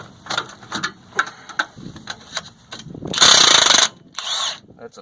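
A ratchet fitted with a 15/16 socket turns on the front axle of a Ford Super Duty F250/F350 truck, giving a run of evenly spaced clicks, then a loud grinding burst and a shorter one after it.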